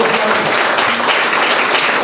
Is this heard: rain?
no